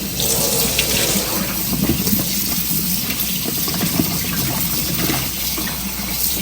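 Running faucet water washes taro root pieces, a continuous near splashing flow with small irregular spatters, steady in level and without speech.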